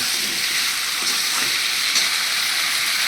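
Steady, loud frying hiss of masala with Kashmiri chili powder and sugar in a pan, a dense continuous sizzle with faint stirring scrapes.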